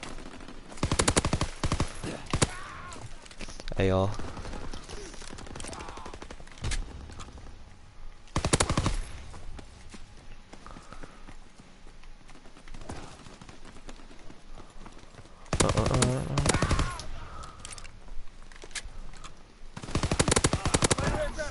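Automatic gunfire from a PPSh submachine gun and an AR rifle in a video game bot lobby, loud full-auto bursts repeating at intervals, with softer game sounds between them.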